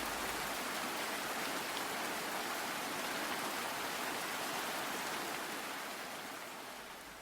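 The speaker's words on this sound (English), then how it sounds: "was the sound of rain." Steady rain pouring down, a dense hiss of drops spread evenly across the whole clip, fading slightly toward the end.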